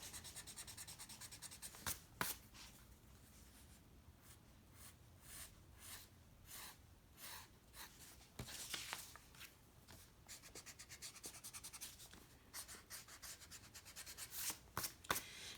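A pencil scratches and rubs across paper in close, quiet strokes, with bursts of quicker scribbling and short pauses between them, and no voices.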